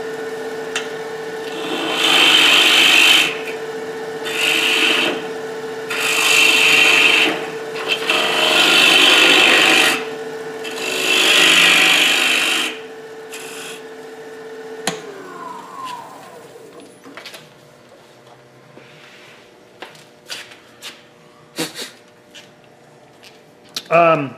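A gouge cuts into wood on a lathe while an enclosed form is turned, making several loud, rasping scraping bursts of a few seconds each, separated by pauses, followed by quieter clicks and handling noises.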